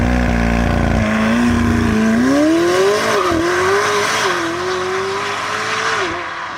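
A McLaren 765LT Spider supercar accelerates hard, its engine note climbing steadily through the revs, loud and close with a raw, continuous roar and no voices over it.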